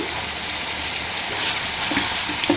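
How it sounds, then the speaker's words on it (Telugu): Amaranth leaves (thotakura) frying in a pan with salt and turmeric, a dense, even sizzle close by with a few louder crackles toward the end and no voices. "ఓ పక్క అయితే తోటకూర ఫ్రై అవుతుంది."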